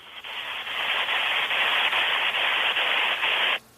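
Strange radio static recording, a steady loud hiss with faint regular pulses running through it, alone for over three seconds before cutting off abruptly.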